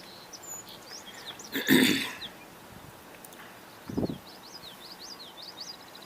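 Common yellowthroat and song sparrow sing faintly in the distance, thin repeated phrases drifting over a quiet outdoor background broken by a couple of nearby rustling thumps.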